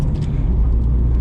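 Steady low engine and road rumble inside a Subaru Impreza WRX STi Ver.9 on the move, a dense continuous drone with no voices over it.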